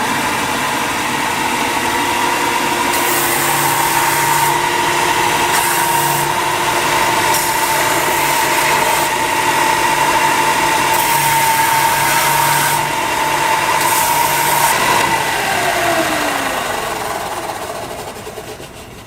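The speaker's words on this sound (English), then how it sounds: "Once we've got the edges basically rounded with the belt sander" A belt sander rounds the edges of wood and leather grips for a 1911 pistol, giving a steady, loud motor whine with a grinding tone that runs unbroken for about nineteen seconds before easing off at the end, with no talking.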